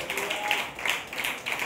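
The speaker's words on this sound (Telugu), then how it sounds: "గట్టిగా చప్పట్లు కొట్టి దేవుడిని చూస్తాడు." Loud hand clapping during Sunday church worship, a steady rhythmic run of sharp claps from a group, fairly close and continuous through the moment.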